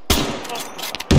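A burst of rapid gunfire from a weapon in the military shooter game Arma 3, loud and abrupt, cutting off and then returning with another sharp shot.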